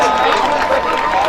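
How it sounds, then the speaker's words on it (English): At a high school football game, a stadium crowd applauds and cheers the West Orange cheerleaders in a loud, steady wash of noise with voices mixed in. "Give them a big round of applause."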